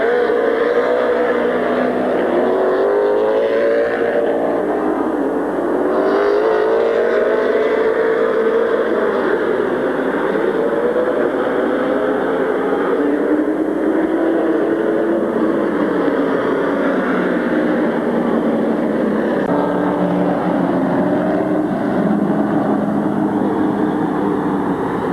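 Race cars lapping Midvale Speedway in 1994, a loud, continuous engine roar with repeated rising and falling pitch sweeps as cars pass, steady throughout with no talk.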